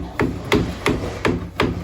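Pocket door track hardware is knocked sideways into place with five sharp, evenly spaced taps about a third of a second apart. Each one is close, loud and a little metallic.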